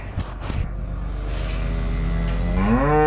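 Cattle mooing in a farm barn, a couple of short calls early on followed by one long, loud drawn-out moo rising at the end, close to the microphone with no one speaking.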